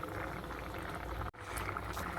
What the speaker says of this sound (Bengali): একটু ফুটবে, তারপরে নামিয়ে নেব।